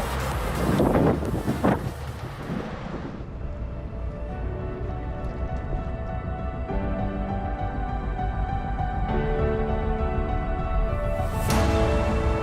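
Wind gusts buffet the microphone outdoors in London, a steady rumbling roar that runs the whole time, with a few sharper bursts near the start and end and faint background sounds beneath.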